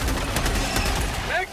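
Assault rifle fire in the shooter Helldivers 2 crackles in a quick run of sharp, closely spaced shots, loud and near, with a voice briefly audible at the end.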